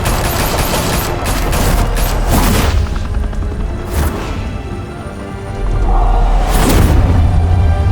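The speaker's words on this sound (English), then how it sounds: "Open fire!" Heavy bursts of gunfire and booming blasts erupt in Batman: The Telltale Series, a sustained fusillade that surges loudly, dips briefly, then swells again near the end.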